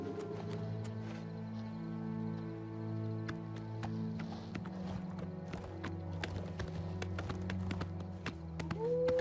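A horse in Oblivion Remastered clip-clops along in a run of scattered hoof taps over a droning ambient music bed, fairly quiet and growing slightly busier toward the end.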